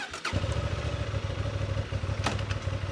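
A Honda Transalp 750 motorcycle starts with a brief clatter, then its engine settles into a steady, close, pulsing thrum, dipping briefly before picking back up.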